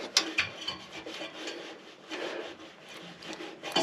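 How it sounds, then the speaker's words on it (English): Hand-turning the blower wheel of a Rheem air conditioner: a dry scraping, rubbing rasp with light clicks, fairly quiet and close, no talking. "So I'm also try to rotate the blower and see if it'll move."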